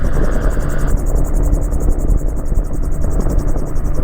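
A Magni M16 gyroplane engine drones steadily in flight over South Australia, loud and constant with a pulsing rotor beat and a slight shift in tone partway through.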